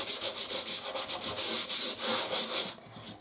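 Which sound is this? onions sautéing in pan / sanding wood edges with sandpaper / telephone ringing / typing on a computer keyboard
sanding wood edges with sandpaper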